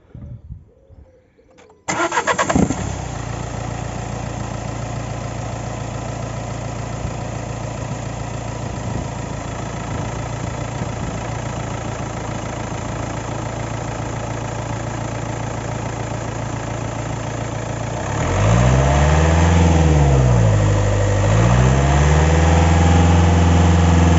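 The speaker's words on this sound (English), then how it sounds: "we just press enter on here and then start the engine like so." An engine cranks and catches at about two seconds, then idles steadily and loudly, with a brief rev swell near the end.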